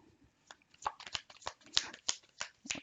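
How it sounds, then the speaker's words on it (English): Tarot cards shuffled by hand in a run of quick, crisp riffling bursts, close up and alone with no talking. "Let me give it two more shuffles"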